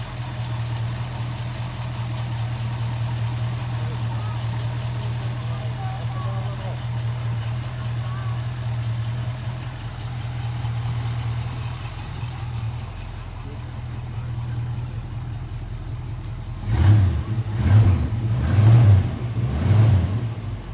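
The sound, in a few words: Ford Mustang classic car engine idling and revving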